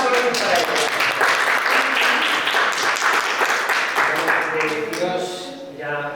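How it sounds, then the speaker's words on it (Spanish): Audience applause for a singer at a talk and book presentation, a sustained crowd clapping that holds steady, then tapers off as a voice begins speaking near the end. "pues un aplauso para ella"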